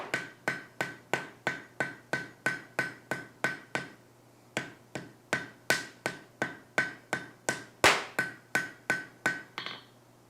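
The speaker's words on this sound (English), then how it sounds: "we've got ourselves a good welding heat" Rapid, evenly paced hammer blows forge-welding a monkey tool at welding heat, about two strikes per second with a short pause near four seconds, each ringing metallic impact close and loud.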